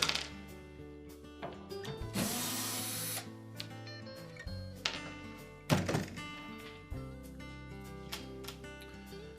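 Screws come out of the back panel of a Whirlpool dryer, giving short bursts of power-driver whir and metallic clinks and clunks close by, with a few separate taps between them and no talk.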